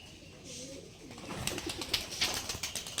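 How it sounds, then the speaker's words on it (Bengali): Rajshahi Giribaj pigeons, a breed of flying pigeon, heard at close range. Soft bird calls and fluttering come in short bursts over a quiet background. "রাব্বি ভাইয়ের এবার কবুতর বাজি দেখাবো"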